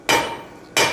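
Blacksmith's hammer striking hot iron on an anvil during a smithing demonstration, two loud ringing blows about two-thirds of a second apart, close and alone, each decaying with a metallic ring.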